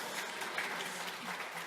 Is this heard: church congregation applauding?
yes